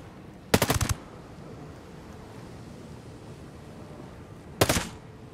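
A VHSD2 rifle in Ghost Recon Breakpoint fires two short, loud bursts of rapid shots about four seconds apart, with a low steady game ambience in the gap.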